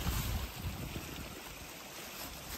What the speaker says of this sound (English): beautiful rocks, flowing water.